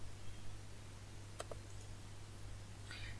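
A computer mouse gives a quick double click, soft and close, followed by a faint tick near the end, against a quiet room hum with no talk.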